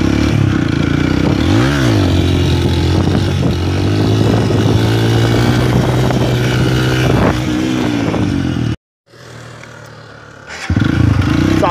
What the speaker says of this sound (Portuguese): Passa a terceira moto.